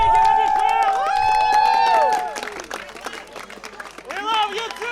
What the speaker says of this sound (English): Thank you, one more applause!